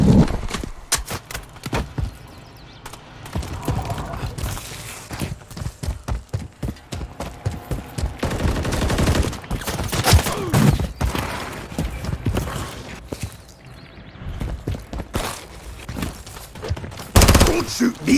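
Rapid gunfire in the video game Call of Duty MW3 crackles in dense bursts and single sharp shots throughout, near and loud, mixed with game clatter and occasional voice callouts.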